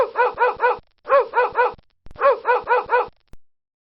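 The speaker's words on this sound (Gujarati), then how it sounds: "કૂતરું ભસે છે." A dog barks in three quick bursts of three or four sharp, close barks each, with brief pauses between the volleys and no voices around.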